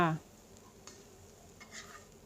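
Insects dry-roasted with ground pepper, lemongrass and kaffir lime leaves in a pan, soft scraping stirs and a faint crackle after a brief voice at the start, quiet and close.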